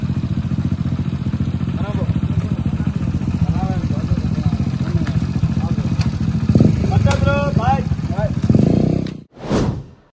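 A motorcycle engine runs close and loud with a steady, throbbing idle as people talk over it, then it swells briefly before cutting off near the end with a sharp whoosh.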